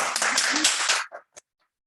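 About one second of dense clapping from an audience after a talk at a digital activism panel, cutting off sharply into near silence with a couple of faint stray sounds.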